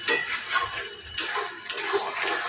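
Chicken curry stir-fried in a pan, with a utensil scraping and clinking against the metal over a soft, steady sizzle; a few sharper knocks stand out, close and moderately loud, with no talking.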